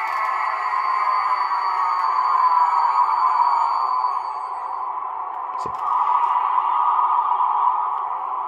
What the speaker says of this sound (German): Man hört hier auch ein bisschen besser das Ende vom Bremsenquietschen.